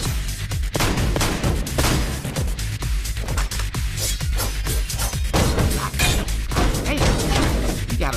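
Gunfire from the video game Madness fills the clip: dense, loud bursts of shots and crashing impacts fire in rapid succession, almost continuous, with no talk over them.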